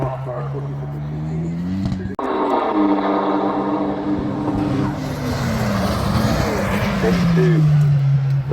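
A Westfield sports car, number 9 with 240 horsepower, revs hard through its gears during a hill sprint at Knockhill Racing Circuit, the engine note rising and falling steadily at close range with a loud shift partway through.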